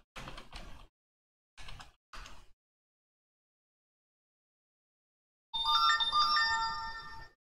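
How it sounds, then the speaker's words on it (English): A mobile phone rings indoors during a tabletop board game session: a loud, bright electronic ringtone with sustained melodic tones starts abruptly after a few brief knocks and a long silence. "My phone is going crazy, sorry about that."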